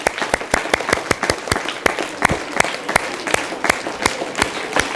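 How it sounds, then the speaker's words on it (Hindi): Audience applause at a yoga workshop held at a school in Aligarh, a loud, dense run of hand claps with sharp individual slaps standing out, steady for several seconds with no voices. "जोरदार तालियां एक बार और।"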